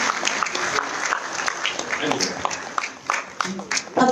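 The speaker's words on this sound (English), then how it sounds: "A big round of applause for Chef David Chang from Caperberry" Audience applause at a live cooking competition judged by Marco Pierre White in Bangalore, steady clapping with a few louder claps, and a voice breaking in near the end.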